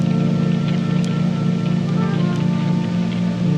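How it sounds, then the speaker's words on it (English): Steady rain pours as an animated sound effect, a loud, even wash of patter with a low rumbling hum underneath, continuous with no pauses or voices. "See, the rain is nice, but gee, I don't really like getting wet."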